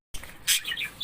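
Pet birds at a morning feeding give a few quick, bright chirps close by, brief and clear against a quiet room.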